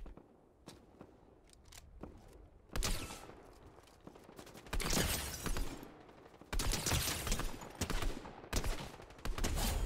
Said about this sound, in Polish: Bro, ale ta broń dziwnie strzela.